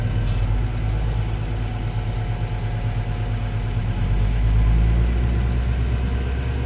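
Tractor engine working under load while ploughing a field for corn, a close, continuous deep rumble and drone with a low-end surge midway, no voices.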